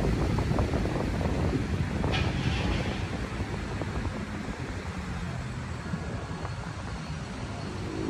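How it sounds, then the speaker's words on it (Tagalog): Strong typhoon wind at Manila Bay roars as a steady, dense rush of noise buffeting the microphone, continuous and unbroken throughout. "At medyo malakas nga po ang hangin."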